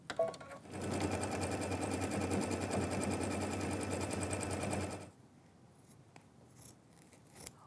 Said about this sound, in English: let's go ahead and watch it stitch out the placement line for the batting